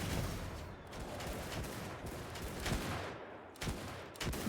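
Rapid volleys of gunfire from a video game battle crackle loudly and steadily, with sharper bursts standing out near the end and no voices over them.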